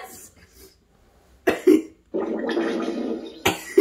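A squelchy, wet fart sound effect played from a smart speaker, two short bursts followed by a longer sputtering one, loud and close with no talking over it.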